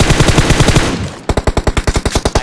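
Rapid automatic gunfire from PUBG Mobile, a long burst of evenly spaced loud shots that breaks off briefly, then resumes as a slower, punchier string of close, sharp bangs.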